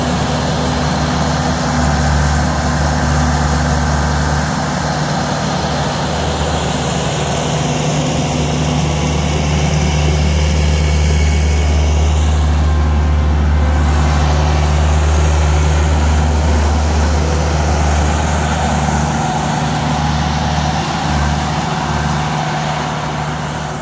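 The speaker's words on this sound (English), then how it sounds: "is clearing out next to this side of the RV with the skid loader." A skid loader clears icy snow beside an RV on Alaskan wilderness property, its heavy diesel engine droning low and steady throughout, loud and close with a continuous rumble and no talk.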